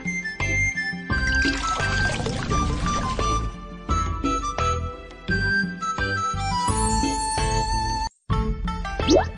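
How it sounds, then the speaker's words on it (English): Water pours into a bowl in a children's Chinese cooking video game, a short cartoonish liquid trickle mixed with bright chimes and dings over playful background music. "Pour some water into the bowl."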